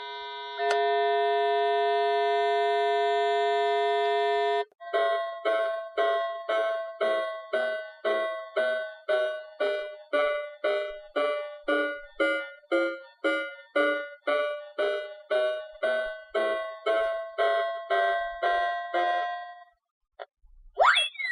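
A toy piano plays its long built-in tune: a sustained electronic tone holds for a few seconds, then a steady run of short, evenly spaced bright beeps repeats for about fifteen seconds, loud and alone, ending with a few clicks.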